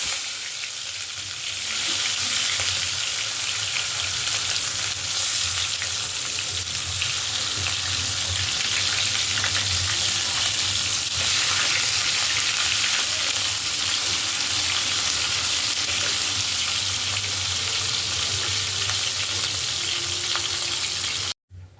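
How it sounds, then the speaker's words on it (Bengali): Fish frying in mustard oil in a wok, a loud, steady, close sizzle with dense crackling that continues unbroken for about twenty seconds before stopping suddenly. "সর্ষের তেল দিয়ে দিলাম এবারে মাছটাকে ভেজে নেব মাছটাকে কড়ার মধ্যে দিয়ে দিলাম"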